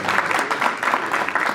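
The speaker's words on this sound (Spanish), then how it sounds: "Así que un aplauso para los compañeros de La Plata." Audience applause at a university lecture event in La Plata, a short burst of dense clapping at steady loudness with no pauses.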